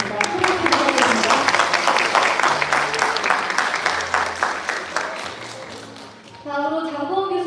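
A crowd of attendees at a student mock parliament gathering breaks into a sustained round of applause that tapers off after about six seconds, then a speaker's voice takes over.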